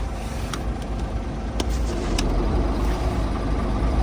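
A truck engine runs steadily with its hydraulic moving floor engaged, a continuous low rumble with a few faint metallic clicks, heard alone.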